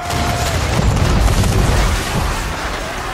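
Ship cannons firing a volley in a naval battle in Assassin's Creed 3, a loud, sustained rumbling boom with dense low-end roar that holds steady and fades slightly toward the end.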